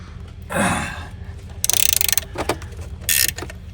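A ratchet wrench loosening 14 mm alternator bolts on a 2016 Hyundai Accent: two quick bursts of close, rapid clicking, with a softer mechanical scrape before them and no talking.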